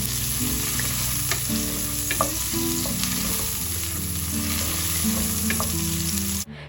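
Finely chopped onion fries in hot oil in a large pot, giving a loud, steady sizzle with occasional stirring scrapes and pops up close, without any talking.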